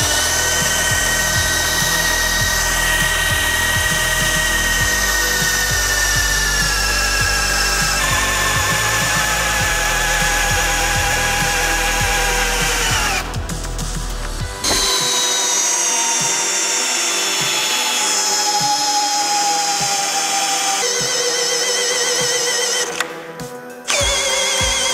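18V cordless impact drill boring deep into wood, a loud steady motor whine with grinding chatter that cuts out briefly, then continues more smoothly before a last stop.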